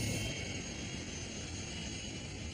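Jet engines of a Tupolev 154 airliner on Bashkirian Airlines Flight 2937 give a steady, faint, broad roar with a high whine running through it.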